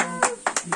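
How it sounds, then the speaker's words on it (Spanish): A voice is followed by a short burst of a few sharp hand claps, loud and close. "¡Aplauso para Toyita!"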